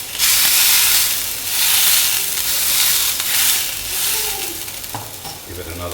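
Steak searing in a very hot pan gives a loud, steady sizzle and hiss that swells and eases over several seconds, with some stirring and clatter, and no voices.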